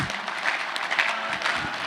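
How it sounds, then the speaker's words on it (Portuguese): A crowd applauds a minister, the Minister of Labour, at a birthday celebration; steady clapping runs throughout at moderate loudness, without talk. "Uma salva de palmas para o ministro, que merece"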